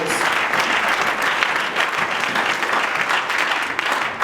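A church congregation applauds the Lord during a French-language worship service, a dense, loud, steady wash of many hands clapping that holds for the whole stretch with no talk.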